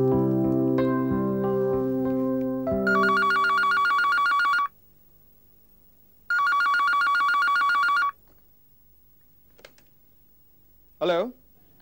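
A telephone rings in two long electronic bursts with a pause between them, after a stretch of background music in an Indian TV drama scene, then a brief click and a short sound near the end.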